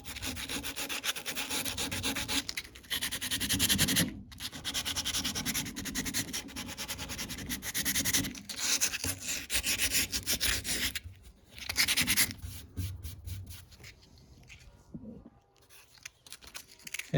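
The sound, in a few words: sanding to roughen Porsche 914 body panel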